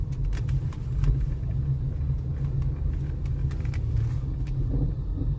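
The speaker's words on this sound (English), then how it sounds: "Car sounds good." A car engine running while driving toward Lake Tahoe, heard from the cabin as a steady, loud, low rumble with road noise and scattered small clicks throughout.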